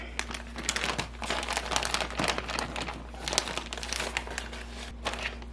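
A plastic freezer bag of frozen onions is handled close by, crinkling and crackling continuously with sharper rustles throughout, at a soft level with no talking.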